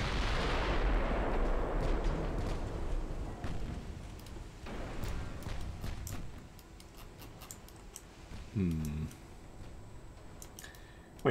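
Naval gunfire from 4.4-inch guns engaging destroyers in a 1920s British naval strategy game, a dense roar of booming shots and rumble at first, thinning to scattered reports and a short tonal burst later, with no talk.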